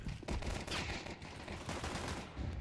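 Rapid pistol fire from dual Berettas in Counter-Strike 2, a dense run of sharp shots alongside game noise across the whole clip, loud and close, with no talk.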